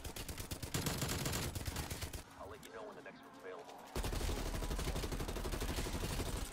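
A silenced M60 machine gun in Cold War Zombies fires long rapid automatic bursts, dense and close, broken by a short pause with scattered game sounds before the firing resumes.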